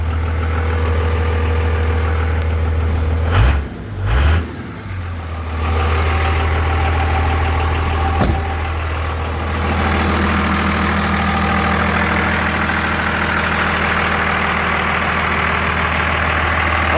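A 24-valve Cummins diesel swapped into a V10 truck idles steadily and up close, with a deep, even rumble, briefly disturbed by a couple of knocks early on before settling into a constant drone.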